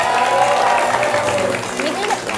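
Audience applause fills a neighborhood gathering in Palembang as a crowd claps steadily, with voices and chatter mixed in throughout and a singing-like voice rising near the end.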